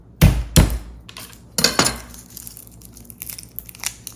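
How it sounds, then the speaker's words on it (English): A kitchen knife chopping garlic and onion on a cutting board while cooking Italian sausage pasta: a few sharp, loud thuds spaced apart, then lighter scattered taps and rustling. "So I'm gonna start by chopping up my garlic and my onion."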